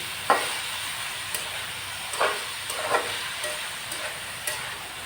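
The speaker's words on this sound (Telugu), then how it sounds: "ఉల్లిపాయలు, టమాటాలు, పచ్చిమిరపకాయలు అన్నీ కలిపి వేయించుకోవచ్చు అండి" Onions, tomatoes and green chillies frying together in oil for a prawn gravy curry: a steady, close sizzling hiss broken by occasional sharp clinks and scrapes of stirring, with no speech.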